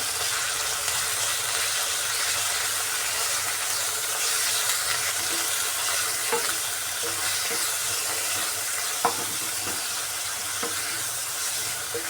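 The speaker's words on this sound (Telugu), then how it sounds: "పుదీనా అలాగే కొద్దిగా కొత్తిమీర వేసి ఒక్క నిమిషం ఫ్రై చేసుకుని" Mint leaves and a little coriander frying in a pan for Telugu ginger chutney (allam pachadi): a steady, close sizzling hiss with occasional soft clicks of stirring, no talk.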